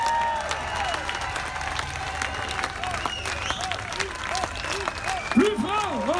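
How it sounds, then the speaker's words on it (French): Festival audience applause at an outdoor evening show in Luynes, a steady wash of clapping from a large crowd lasting throughout, with cheers and voices mixed in. "Un tonnerre d'applaudissements"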